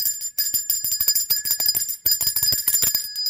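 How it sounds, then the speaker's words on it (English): A bell rings alone in quick, repeated bright strikes over about three seconds, with a short break near the middle. "I'm going to ring the bell for that."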